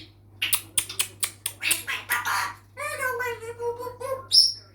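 An African grey parrot chatters and whistles up close, with a run of clicks and then a stretch of tonal, wavering call notes ending in a sharp high squeak; a person's voice can also be heard.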